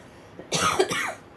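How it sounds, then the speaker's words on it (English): A single short cough, close and fairly loud, with quiet background before and after. "I'm surprised I've not coughed more."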